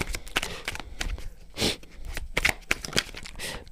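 A small Merlin oracle deck being shuffled by hand, giving a dense run of brisk papery riffles and flicks, close and fairly loud, with one fuller swish midway and a few cards slipping out.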